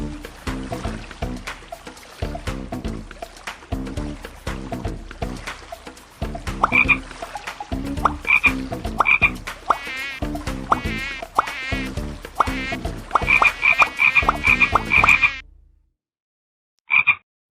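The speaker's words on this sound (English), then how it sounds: "Frogs and flies." Frogs croaking with buzzing flies in a FragPunk video game teaser, loud rhythmic croaks repeating over a busy layered background with bright chirping accents, cutting abruptly to near silence before one last short burst.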